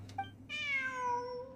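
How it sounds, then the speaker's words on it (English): A cat in the video game Genshin Impact gives a short chirp and then a longer, clear, drawn-out meow that slides downward in pitch, close and distinct over a faint low hum. "Another cat."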